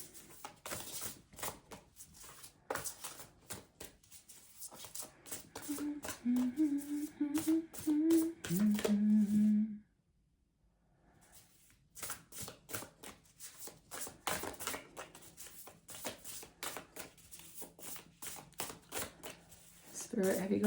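Tarot cards being shuffled in repeated quick riffles and taps, with a person talking over much of it and a brief quiet pause midway.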